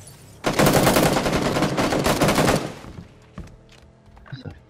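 Rapid automatic gunfire from a PUBG match rattles loud and close for about two seconds, then cuts off, leaving a few faint clicks and scattered game noises with low voice sounds in the background.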